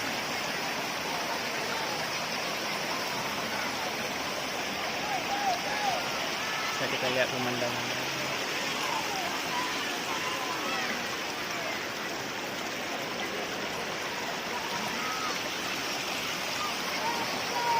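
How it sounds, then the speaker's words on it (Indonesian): Rushing water at the Rayap waterfall in Nisam, North Aceh pours in a steady broadband hiss throughout, while someone talks over it briefly midway. "saat ini kita sedang berada di air terjun Rayap di Nisam Antara, Kabupaten Aceh Utara"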